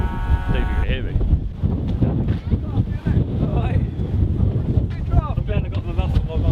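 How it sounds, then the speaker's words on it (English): Strong wind at sea roars and buffets a microphone fitted with a wind muff, in a steady, loud rumbling gust with no let-up, near a boat amid big waves. "It's really windy."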